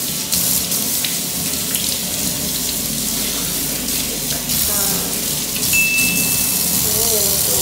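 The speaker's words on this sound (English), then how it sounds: "now I want to wash that sweet potato" A large, soft sweet potato is rinsed under a running kitchen tap, with a steady close rush of water and splashing that changes as the potato is turned in the stream.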